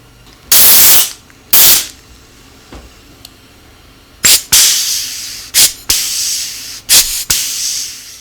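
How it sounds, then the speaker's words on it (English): Pneumatic air riveter setting rivets into a bent support while clecos are removed, several sharp loud hissing bursts in irregular succession, with quieter gaps between them. "This air riveter really does make this job simple"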